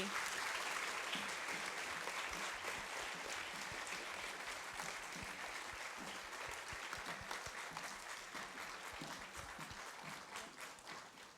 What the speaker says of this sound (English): can we all give a big, massive round of applause again to Holly?